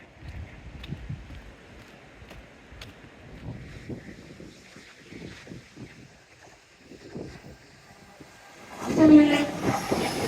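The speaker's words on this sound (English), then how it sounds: "Happy train." A train rumbles past along the Dawlish seawall, a faint, distant clatter building slowly before a loud, close horn blast sounds near the end.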